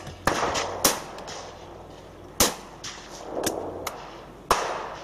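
Shotgun shots at sporting clay targets at a British Open sporting championship: five sharp, loud cracks spaced irregularly, some in quick pairs, each followed by a short outdoor echo and a fading tail.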